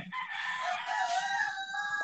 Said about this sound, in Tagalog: And pati yung mga manok bumabati rin eh.